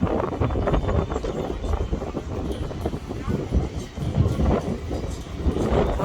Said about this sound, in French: il continue à avoir beaucoup de vent